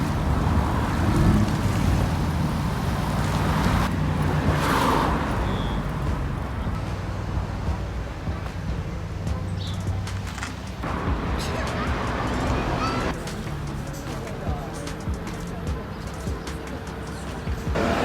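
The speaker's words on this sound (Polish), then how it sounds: "Hałas miejski, a ja robię sobie wciąż spacer." City street noise heard while walking on foot: a continuous broadband wash of traffic and wind, fairly loud and steady, with passing swells and occasional sharper bursts.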